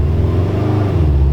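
A Subaru STI engine revs in a steady, loud low rumble that holds through the brief moment, close by and with no one talking.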